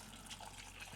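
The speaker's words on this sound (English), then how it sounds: "Just pour your broth" Liquid pours steadily into a pan with a soft, continuous gushing splash, quiet and close, lasting only a moment.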